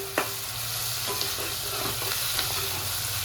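Green chilies and curry leaves frying in hot oil for an old-style Dasari budamkaya and bommidala curry, a steady soft sizzle with a few faint stirring clicks, no talk.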